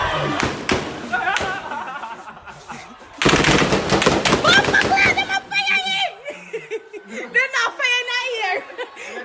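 Gunfire from recorded footage of unrest in Jamaica's old capital comes as sharp bursts of rapid reports, mixed with voices, laughter and chatter throughout.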